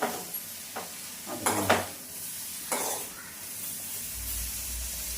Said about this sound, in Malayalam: നമ്മൾ മുളക് പൊടി ഇട്ട് കൊടുത്തതിന് ശേഷം ഒന്ന് ശ്രദ്ധിക്കണം കാരണം പെട്ടെന്ന് അടി പിടിക്കാനുള്ള സാധ്യതയുണ്ട് അതുകൊണ്ട് സിമ്മിലിട്ട് നന്നായി വഴറ്റിക്കൊണ്ടിരിക്കുക